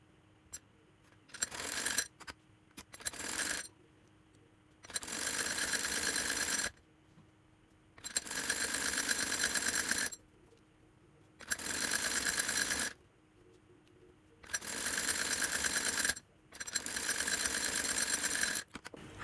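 Sewing machine stitching the side seam of a folded fabric sleeve along a marked line, running in several bursts of a few seconds each with short pauses between, close and steady, no talking.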